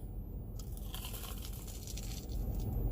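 A close, crisp crunch of teeth biting through a fried rice dog with a crunchy coating and mozzarella filling, followed by soft chewing and squishing, with no talking.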